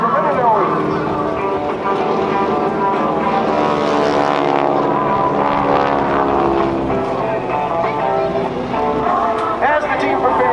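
GEICO Skytypers propeller aircraft drone loudly through a low pass at the 2014 NAS Oceana airshow, with a steady engine roar that swells and fades as the planes go by and a narrator talking over the top.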